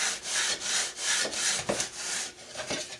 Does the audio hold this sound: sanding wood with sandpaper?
yes